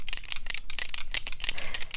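Dice rattle and clatter in a quick burst of sharp clicks, near and fairly loud, with no voices over them.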